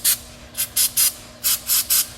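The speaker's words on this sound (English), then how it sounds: "Next thing I do is I will spray each of the little brackets where the brake pads come into contact with." Aerosol brake cleaner sprayed onto the brake pad contact brackets of a Honda Element/CRV: seven short, close hissing bursts in quick succession, with brief gaps between them.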